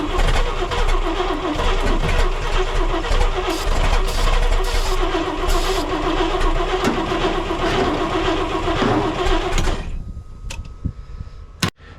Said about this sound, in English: Let's crank her, see if she starts.